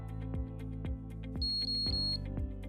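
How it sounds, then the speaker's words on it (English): A HILARIS TL ECO therapy laser gives a short high electronic tone that sounds three times in a row, clear and steady, over a background of repeated low thumping knocks. "When the timer runs out, the laser turns off automatically and a triple signal tone is emitted."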